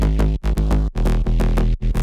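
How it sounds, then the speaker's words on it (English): Dry drum-and-bass mid bass and sub play in a choppy, rhythmic pattern of gritty buzzing notes, cut by short rhythmic gaps, loud and upfront with no other sounds. "So bass altogether without effect sounds like this."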